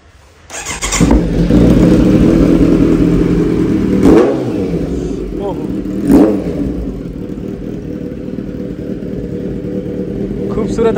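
A motorcycle engine idles loudly up close, with a couple of sharp throttle blips revving it up before it settles back to a steady rumble.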